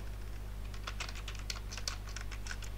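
Quick, light typing on a computer keyboard, a close run of irregular clicky keystrokes over a low steady hum, with no voices.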